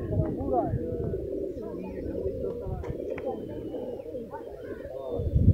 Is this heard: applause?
no